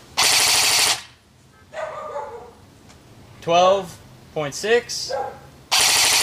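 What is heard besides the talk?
Snow Wolf Barrett M82 M107 airsoft rifle firing rapidly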